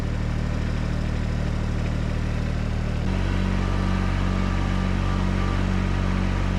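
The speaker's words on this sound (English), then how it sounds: "It's such a long distance to the mailbox that I use the tractor to go get my mail." Tractor engine idling close by in a steady, loud low rumble, with the tone shifting to a different steady pitch partway through; no talk.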